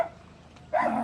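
A single dog barks once, short and fairly close, after a moment of quiet background, set near a house in the Philippines.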